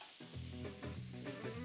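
Shrimp fry in a pan with a faint, steady sizzle broken by soft scraping and stirring clatters.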